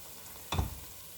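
A single short scrape and sizzle as prawns are stirred in a hot pan, one quick burst against a quiet background with no talking.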